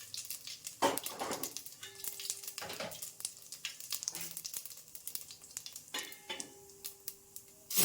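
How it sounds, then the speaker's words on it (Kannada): Mustard seeds and cumin sizzling in hot oil for drumstick sambar, a steady crackling fry with sharp bursts of popping and spattering, clinks of a pan and utensil, no talking. "ಆಯಿಲ್ ಸ್ವಲ್ಪ ಬಾಯ್ಲ್ ಆಗಿದ ತಕ್ಷಣವೇ ಸಾಸಿವೆ ಮತ್ತು ಜೀರಿಗೆ"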